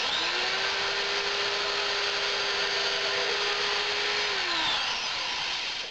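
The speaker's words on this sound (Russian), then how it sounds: "Для этого используем шуруповерт со сверлом." A drill driver with a drill bit whirs steadily into wood for several seconds, its motor pitch holding level before winding down at the end.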